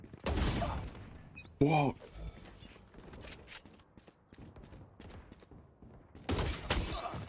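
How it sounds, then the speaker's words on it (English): Bursts of gunfire from a shooter video game, loud clusters at the start and end with a sharper burst near two seconds, while a player reacts briefly over the shots. "he's just shooting non-stop bullets."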